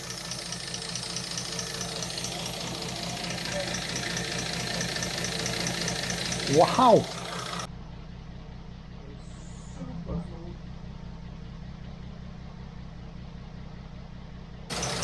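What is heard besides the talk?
cold car engine idling with slight tappet sound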